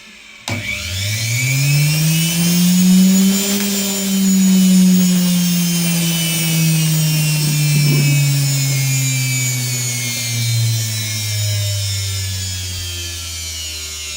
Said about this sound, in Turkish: Motorumuzun çalışması bu şekilde.